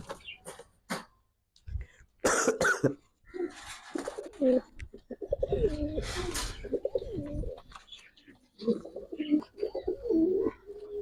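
Pigeons, Giribaz high flyers and club racers, coo in soft repeated rolling calls at close range, with someone talking over and between them and some handling noise.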